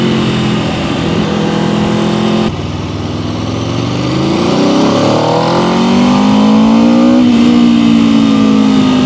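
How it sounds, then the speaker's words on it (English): A 2026 Aprilia RSV4 Factory V4 sport motorcycle engine revs up and down, pitch climbing and falling in smooth sweeps, loud and close with a steady idle rumble underneath. "I can just do my RPMs up and down."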